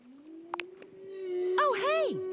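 Sperm whale song played from a deep sea mammals record, a steady low drone with rising and falling moaning calls and a brief clicking burst, fairly quiet and heard alone.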